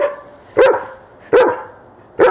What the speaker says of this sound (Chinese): 看 Shadow 平时也会叫的